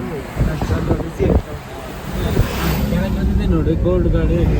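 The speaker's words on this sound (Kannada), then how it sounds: "ಬಂದಿದೆ ನೋಡಿ, ಕೋಲ್ಡ್ ಗಾಳಿ" Cold wind gusts over the Agumbe Ghat mountain road in a steady, rushing roar buffeting the microphone, with voices talking briefly beneath it.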